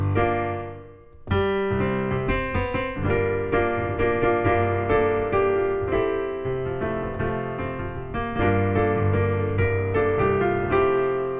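A piano plays the bridge of a song, a flowing passage of sustained chords and melody, close and clear, after a brief quiet start.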